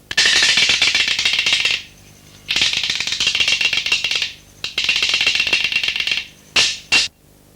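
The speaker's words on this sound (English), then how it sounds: "Many Aboriginal songs are accompanied by beating together boomerang clapsticks." Aboriginal boomerang clapsticks beaten together in a fast, rattling roll, played in three long bursts separated by short pauses and ending with two single clacks, close and alone.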